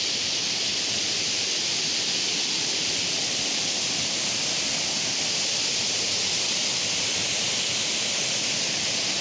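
Kothapalli waterfalls roar as a steady, dense rush of falling water, constant and fairly loud throughout with no voices.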